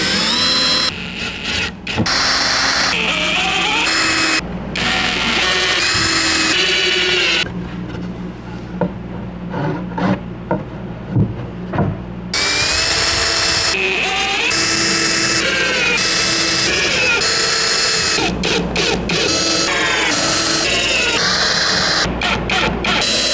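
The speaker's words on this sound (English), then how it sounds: "I'll have to clean up with the sander now" Power sander running on a barn wood toy chest, a loud continuous buzzing drone broken by brief pauses and a quieter stretch in the middle, close and dominant, no talking.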